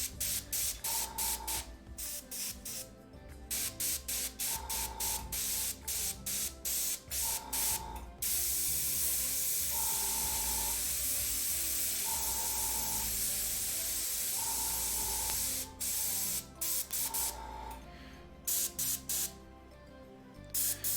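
An airbrush sprays paint onto a dwarven hunter bust in loud, close bursts of airy hiss, short stop-start pulses at first, then a long unbroken spray in the middle, with a faint steady tone beneath and no talking.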